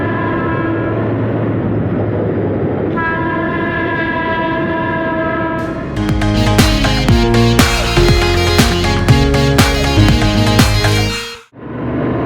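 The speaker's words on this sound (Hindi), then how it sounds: "क्या ट्रेन निकल रही है यार, गजब हॉर्न दे रही है।" A train rumbles steadily, then sounds a loud sustained horn while passing close by with clattering wheels on the rails, fading at the end.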